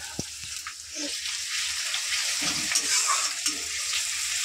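Fish frying with onions and a little garlic in hot oil, a continuous close sizzle with a few soft stirring knocks rising over it.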